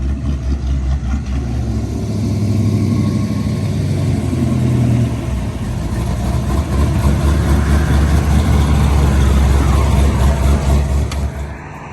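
A Ford Mustang Foxbody V8 idles close by with a deep, steady low rumble, the engine holding a loud, even burble throughout with slight swells and no talking.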